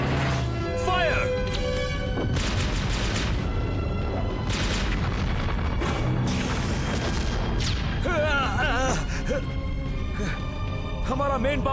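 Cartoon weapons firing loud blasts and booms in an animated Power Rangers battle scene, layered with dramatic music and sweeping effects, with voices speaking over the action.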